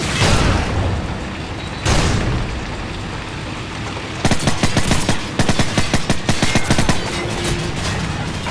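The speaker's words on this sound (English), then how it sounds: "Flashbang out." Flashbang and gunfire explosions in Call of Duty 4: Modern Warfare, two heavy booms followed by a rapid burst of sharp repeated gunshots, loud and close with no talk.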